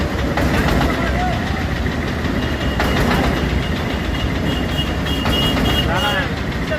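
A paddy threshing machine's engine runs nearby at a village market, a rough, continuous idling drone with knocking texture, while voices talk over it.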